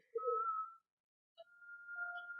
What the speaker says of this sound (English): Oh, yeah, that was a whistle.